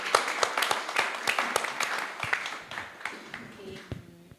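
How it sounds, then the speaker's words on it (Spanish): Audience at a sustainability event gives a round of applause, many distinct hand claps at close range that gradually taper off, with faint voices underneath. "Yo creo que se merecía un aplauso esa motivación realmente."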